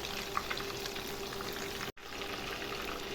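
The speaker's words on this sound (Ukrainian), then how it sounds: "Смажимо." Continuous sizzling and crackling of pork patties frying in a hot pan, steady and close, interrupted by a brief cut of silence midway.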